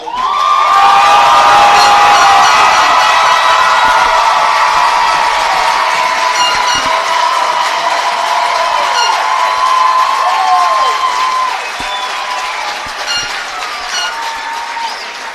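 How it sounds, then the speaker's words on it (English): A loud stadium crowd roars at an Ohio high school softball Division III state championship, Springfield vs Dover. The cheering is sustained and dense, with whistles or horns on top, and eases slightly after about twelve seconds. "this is the loudest, most electric crowd"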